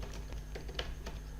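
Faint, close clicking of a computer keyboard as Java code is typed, a handful of light uneven keystrokes over a quiet background hum.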